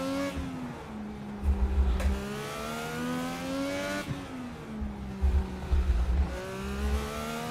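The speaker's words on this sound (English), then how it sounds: "That downshift sound is nasty." An open-wheel race car in iRacing downshifting, with the engine note stepping down in sharp blips and crackling pops between steady high-revving drones, loud and close throughout.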